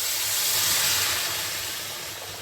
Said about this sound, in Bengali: এখন আমি এখানে এই গরম জল দিচ্ছি, ঠান্ডা জল দেবে না।